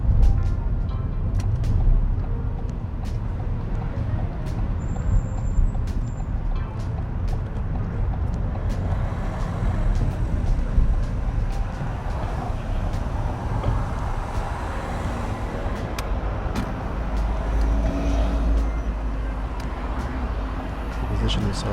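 A learner's car on a driving test in Hendon waits to pull away from a hill start, with a low steady engine and road rumble inside the cabin while people talk over it, plus occasional faint clicks.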